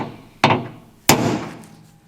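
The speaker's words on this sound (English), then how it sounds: "make a little guide hole for our drill bit" Two sharp metallic strikes, roughly half a second apart, as a guide hole is punched for a drill bit in a Nissan GTR body panel, each hit ringing briefly before fading, close and loud with no voices.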